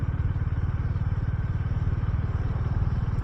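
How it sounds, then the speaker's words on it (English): A Honda GB350S motorcycle engine runs steadily while riding in third gear at just under 30 mph, a loud, even low thumping pulse with road and wind noise, with no talk. "That lets you know that you're getting the best out of this little engine."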